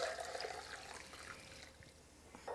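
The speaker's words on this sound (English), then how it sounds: "I like to use a measuring cup to pour into here because it's a little bit easier. So we'll just add this into the measuring cup." Bone broth pours steadily from a container into a measuring cup, a continuous close liquid trickle and splash that eases slightly toward the end, with no talking.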